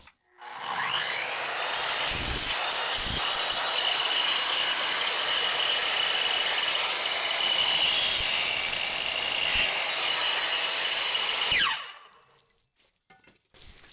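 A saw cuts through an aluminium Maxim-ar Suprema window frame profile, a loud, continuous grinding rasp lasting about eleven seconds, then stopping abruptly into near quiet.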